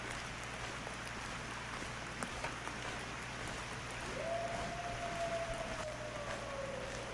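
Steady broadband hiss of video game rain falls without a break, with a low constant hum beneath it and a thin tone that slowly glides downward near the end.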